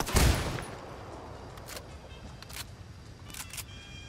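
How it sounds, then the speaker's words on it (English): Gunfire in Ghost Recon Wildlands, one strong close blast at the start followed by scattered fainter distant shots over a steady background rumble. "I'm opening fire on these shitheads."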